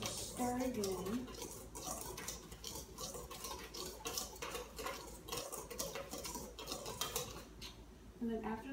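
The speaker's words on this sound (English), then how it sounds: "we're going to give the dry ingredients a stir again" Dry ingredients are stirred in a bowl with fast, scratchy scraping and light tapping of a utensil, busy and continuous with a voice heard faintly in the background.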